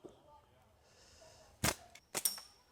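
A catapult shot at a peg target: a sharp snap and slap, then a double crack moments later, close and brief over a faint background hum.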